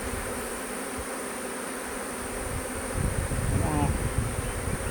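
Honey bees buzz around a newly hatched queen in a hive, a continuous close insect drone that swells slightly louder in the second half.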